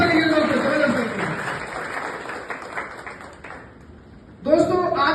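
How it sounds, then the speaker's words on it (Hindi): An audience applauds at an Indian event, a broad wash of clapping that fades after a few seconds beneath someone speaking loudly, then talk resumes. "एक बार जोरदार तालियां,"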